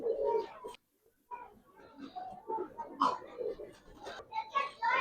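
Young Giribaz and coloured pigeons coo softly in a loft, low throaty calls repeating near the mic, mixed with someone talking over them.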